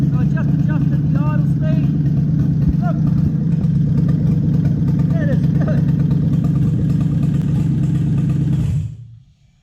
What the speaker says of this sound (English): I reckon we could do with some more idle speed. So I just adjusted the idle speed.